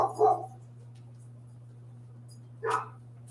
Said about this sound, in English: The dogs get barky because they get excited.